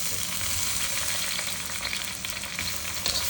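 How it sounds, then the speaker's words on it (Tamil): Green chillies sizzle and fry in a pan of oil while mutton biryani is being cooked, a steady close crackling hiss that runs throughout with no talking. "பச்சை மிளகாவும் சோப்பு மிளகாவும் போட போகிறேன்"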